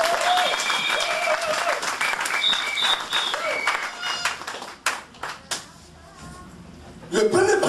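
A church congregation claps and applauds to acclaim the Lord, loud sustained clapping with scattered cheers that fades midway, then a brief burst near the end, with a voice speaking over it.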